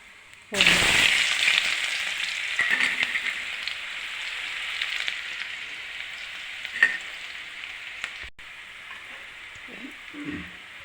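Garlic, onion and curry leaves dropped into hot oil for bitter gourd poriyal, a sudden loud burst of frying that settles into a steady, rain-like sizzle and slowly fades.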